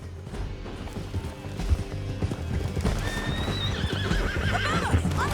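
Steady hoofbeats of a horse clopping along in Red Dead Redemption 2, with a distinct neigh rising near the end; other game sounds and movement noise sit underneath throughout.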